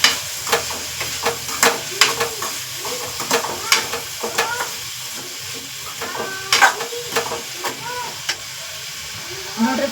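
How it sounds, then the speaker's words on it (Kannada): Ridge gourd pieces soften in hot oil for a dry stir-fry, sizzling and hissing up close while a spatula scrapes and clacks against the pan in irregular strokes, with no speech. "ಫ್ರೈ ಆಗಿಬಿಡುತ್ತೆ ಅದು ನೀರು ಹಾಕಿ ಕುದಿಸೋದಕ್ಕಿಂತ ಎಣ್ಣೆಲೇ ಸ್ವಲ್ಪ ಮೆತ್ತಗಾದ್ರೆ ತಿನ್ನೋದಕ್ಕೆ ರುಚಿ ಭಾಳ ಬರ್ತೈತಿ"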